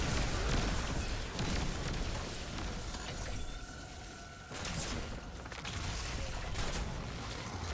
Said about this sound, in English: I'm just going to toss both my nades.